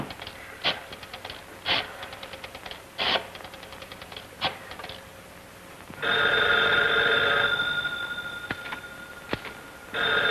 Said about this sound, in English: I can hear him trying to type.